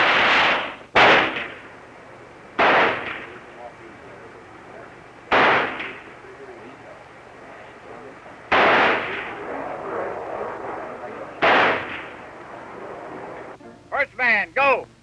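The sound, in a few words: carbine gunfire on a firing range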